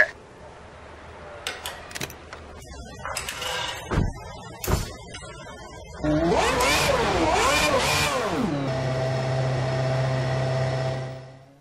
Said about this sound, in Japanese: ジャッキ下ろしてエンジンを回しマシンをコースに出せ